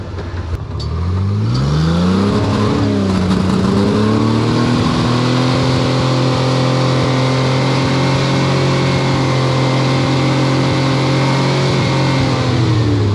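A rock crawler rig engine with a very long shifter revs up loud and close, climbing in pitch over the first seconds and then holding a steady, strained drone.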